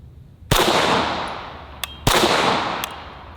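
A Mac-11 machine pistol fires two short bursts from a 15-round magazine, each a loud, sharp onset followed by a long echoing decay, with a single faint crack between them.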